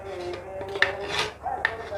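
A jug being scrubbed clean with warm water in a home kitchen after making butter, giving a steady close rasping and rubbing with a few sharp knocks against the container and no voices.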